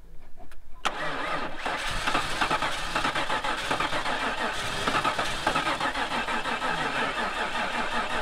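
A Lincoln Town Car engine cranks and catches after about a second, then settles into a steady, rough running idle, loud and close, with no talk during it.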